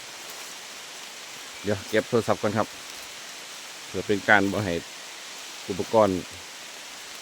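Steady rain pours down during a mushroom-foraging outing, a broad continuous hiss filling the background while someone speaks Thai in short bursts over it.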